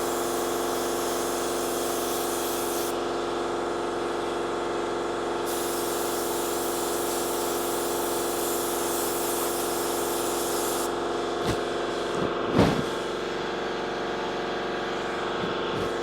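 A paint airbrush from a Harbor Freight six-hub set sprays black paint while an air compressor runs underneath. A steady hiss and pulsing motor hum go on alone for most of the stretch, then the compressor cuts off with a few clicks near the end.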